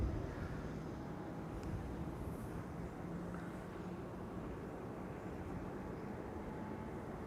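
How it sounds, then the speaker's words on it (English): A United Airlines Boeing 767 takes off at Amsterdam Schiphol Airport, heard as a low, distant, steady jet engine roar that holds evenly throughout with no talk. "And the next rolling airplane should be United Airlines Flight 947 to Washington. Second 767 of the show."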